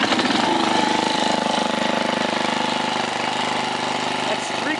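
A 1968 Briggs & Stratton 275cc horizontal engine runs steadily at three-quarter throttle with a loud, even, rapid putter that holds constant and close throughout.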